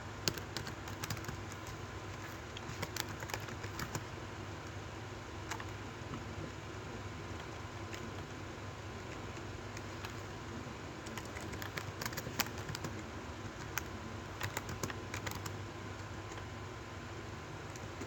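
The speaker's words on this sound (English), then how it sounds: "So let's see what I'm typing." Computer keyboard typing in a quiet room, a steady run of soft clicks and key taps over a constant low fan or air-conditioning hum, fairly faint and continuous with no one talking.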